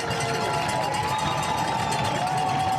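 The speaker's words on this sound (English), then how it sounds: "As you guys can hear, it's quite loud around here." Loud, steady roar of a packed crowd at a high school football game, Olentangy Orange against Olentangy Berlin, filling the air without pause as a big play unfolds, with a voice talking over it.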